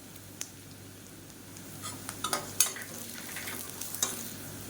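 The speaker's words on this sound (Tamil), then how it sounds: "வெங்காயம் நல்லா பொன்னிறமாக வதங்கட்டும் இது கூடவே ரெண்டு வரமிளகா சேர்த்துக்கலாம்" Onions fry with dried red chillies and crushed garlic in a pan, giving a soft, steady sizzle with occasional sharp clinks and scrapes of a spatula as the mix is stirred.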